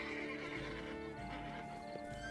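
A horse in The Witcher 3 gives a short neigh with snorting breaths and light hoof clops, close and moderately loud over quiet game ambience.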